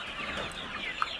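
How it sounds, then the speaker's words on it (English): Chickens clucking inside a cheap raised-floor chicken house for about 500 birds, a steady dense murmur of many hens with one brief sharper cluck standing out near the end. "the chicken are very comfortable inside on this raised floor house"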